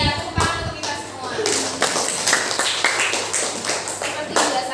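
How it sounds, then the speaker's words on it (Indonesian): Group applause in a school classroom, a dense burst of clapping from children that keeps going under a teacher's talking, close and fairly loud. "Ya, tepuk tangan untuk kita semua."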